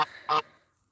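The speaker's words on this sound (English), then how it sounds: "The geese and the ducks are hanging out." Two goose honks close together on a homestead at sunset, the second louder and longer, followed by quiet.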